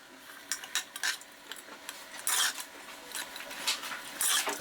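A spoon scrapes and clinks against a pot while stirring cooked taro curry, giving short irregular rubbing strokes and metallic taps, close and fairly soft, with no voices.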